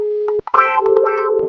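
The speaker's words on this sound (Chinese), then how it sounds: "老东西敢挂老子电话！" A telephone tone sounds after a call is hung up, heard as a steady electronic hum that cuts off abruptly and gives way to louder, distorted tonal sounds.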